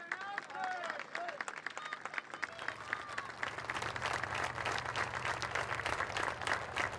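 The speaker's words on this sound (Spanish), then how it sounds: "Un fuerte aplauso." A crowd at an official Argentine housing handover ceremony with the Buenos Aires governor applauds, starting as scattered claps under a brief voice and swelling into steady, dense clapping with a low hum beneath.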